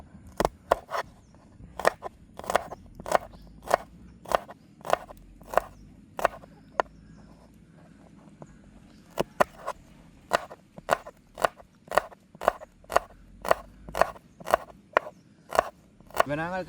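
Scissors snipping garlic cloves for homemade rolls, a long run of sharp, evenly spaced cuts close by, with faint kitchen background between the clicks.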